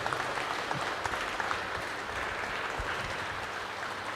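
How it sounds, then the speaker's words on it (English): Sustained applause from an audience at a public hearing in Pietermaritzburg City Hall, given for the women on International Women's Day; dense, steady clapping filling the room with scattered sharper claps. "we want to give them the biggest round of applause"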